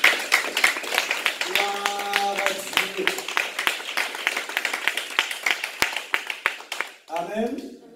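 Church congregation clapping together during a French-language Sunday worship service, a dense steady patter of many hands filling the room for several seconds, with sung or spoken voices briefly rising over it before the applause fades near the end.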